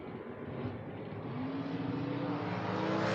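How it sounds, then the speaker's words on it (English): Mustang drag race cars accelerate off the line at a drag racing event, giving a loud, sustained engine roar whose pitch climbs steadily over a few seconds, with no talking. "Riebert in the Mustang down 655, taking on Rex Lilly"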